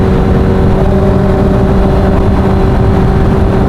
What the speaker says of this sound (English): his bike, Yamaha MT-09, he's got a straight through exhaust acropovic system, which sounds nuts, it's so loud.